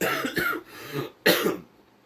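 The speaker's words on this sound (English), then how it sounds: "I've got this damn lingering cough that just will not go away" Two or three harsh coughs from a lingering cough, close up, separated by brief pauses, with a throaty clearing sound between them.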